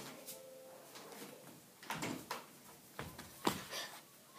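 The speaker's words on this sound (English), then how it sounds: "I'm just going to quickly close the door" A door is closed indoors, with a few faint knocks and scrapes, a soft thud near the middle and a sharper knock toward the end, all quiet.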